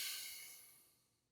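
One long, airy exhale as a person lets out a held breath, starting close and clear and then fading smoothly to near silence, with no other sound.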